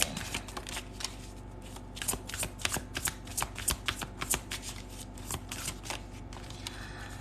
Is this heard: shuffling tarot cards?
yes